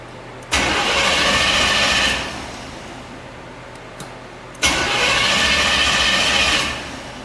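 A 1984 Chevy C10 engine cranks in two separate bursts of about a second and a half each, separated by a pause. The loud, close starter whirr fails to catch either time, and the engine never runs.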